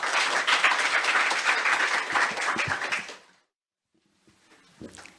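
An audience claps to welcome Pastor Park Young-sun before a lecture, a dense round of applause for about three seconds that stops abruptly, followed by near silence and a few faint stray sounds.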